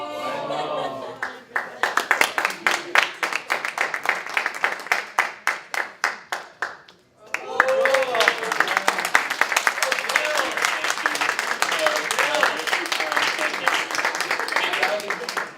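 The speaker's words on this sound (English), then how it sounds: "Big round of applause" Applause at a Purim party mentalist show: a few seconds of sparse, distinct hand claps that swell into dense, sustained clapping from the crowd after a short pause, with some voices mixed in.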